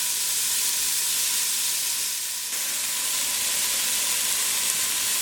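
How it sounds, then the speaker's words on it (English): Onions softening in a pot for vegetarian chili, giving a steady, even sizzle and hiss throughout with no voices over it. "my onions have softened up here. They've been cooking for maybe 4 to 5 minutes."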